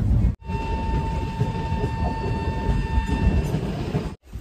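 The 13151 Jammu Tawi Express rumbles along at speed near Gaya, a loud, steady roar of wheels and carriage noise with a faint sustained whine, broken by two brief dropouts.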